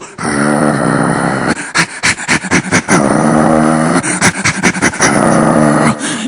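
A comedian on stage at an Onam show imitates a puppy with loud, rapid yapping barks and growls, a rhythmic string of short bursts delivered close to the microphone.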